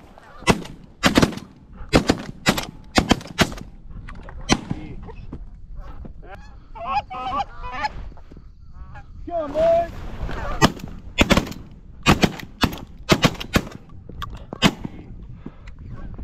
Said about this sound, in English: We gotta do some better shooting there, fellas.